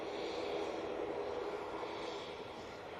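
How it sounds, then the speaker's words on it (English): Small Cessna Citation business jet approaching Manchester Airport, a steady broad engine roar holding at a fairly even level throughout, distant and continuous with no talk over it. "looks like a little Cessna citation coming towards us"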